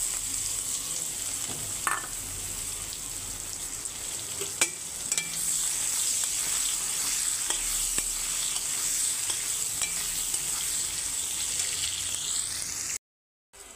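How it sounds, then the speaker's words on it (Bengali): Onions frying with a five-spice tempering in leftover fish-frying oil, giving a steady close sizzle with occasional crackles and pops, alone without talk, cutting out briefly near the end. "তো ওই মাছ ভাজার তেলেই আমি এখন রাঁধুনি ফোড়ন দিয়ে দিচ্ছি,"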